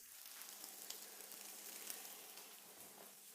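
Leftover roast frying with potatoes in a pan for a Tyrolean hash with bacon, giving a steady close sizzle with faint crackles and no talking.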